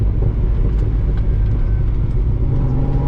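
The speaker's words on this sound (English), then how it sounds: "does this car just sound so good with the downshifts" An 800 hp Corvette Z06 downshifts on the road, a loud, steady low-pitched engine rumble with exhaust burble heard up close from inside the car.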